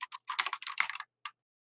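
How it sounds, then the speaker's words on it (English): Rapid bursts of typing on a computer keyboard, close and clear, with a short pause before a final isolated keystroke cluster, no voices. "What are you typing, Sufa?"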